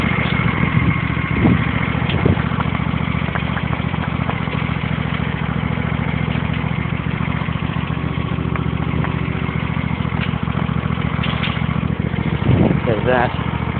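An old engine on a spring cold start idles roughly and keeps sputtering unevenly, a steady mid-pitched running drone with occasional stumbles throughout.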